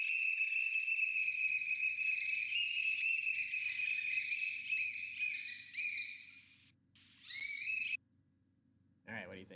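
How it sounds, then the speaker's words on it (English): A black oystercatcher gives a string of loud, piercing, whistled piping calls in rapid repeated bursts, with a faint low hum underneath, then falls quiet before a short noise at the end. "That is the sound of a black oyster catcher."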